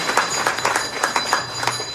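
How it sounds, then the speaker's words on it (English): Audience applause at a temple Kavady festival, a steady wash of many hands clapping at moderate distance with irregular louder bursts, lasting throughout. "let's give him a round of applause"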